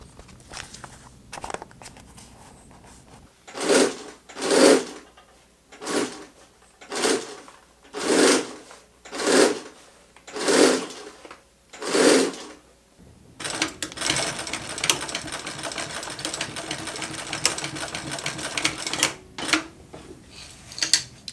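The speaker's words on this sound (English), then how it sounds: "I'll probably sew it first and then cut it." A sewing machine stitches a DIY travel bag, running in about eight short, even bursts with brief pauses between them, then settling into one longer continuous run, close and fairly quiet.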